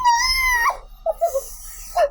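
A person imitates the Black Panther superhero's growl, a harsh throaty rasp rising into a whine, then shorter growly bursts after a pause, close and fairly loud with no other talk.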